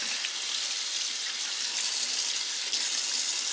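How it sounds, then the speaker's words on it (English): Tap water runs in a steady, even hiss as a juicer part is rinsed under the stream, with no talking over it. "Let the water run through those little sides area."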